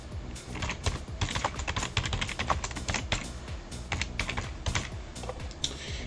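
Steady, fast typing on a computer keyboard, a continuous clatter of close key presses with no voices.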